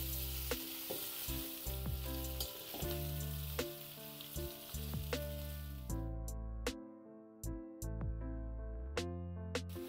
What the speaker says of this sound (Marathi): एकदा मस्तपैकी एक परतून घेऊ आपण, मिक्स करून घेऊ